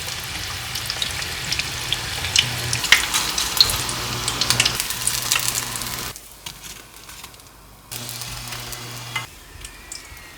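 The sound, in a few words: deep-frying food in oil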